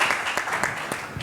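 Conference audience applauding a panel speaker at a youth leadership forum on the legislative branch, a dense, loud and continuous round of clapping in a hall.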